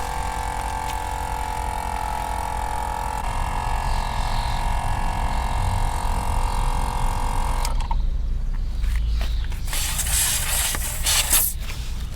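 A Viair 300P RVS portable tire inflator compressor running as it fills a rear tire, a loud steady motor drone that cuts out near the end, followed by hissing air and handling clatter.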